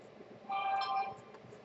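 A mobile phone notification chime sounds once at low volume, a brief bright tone burst rising out of quiet room background.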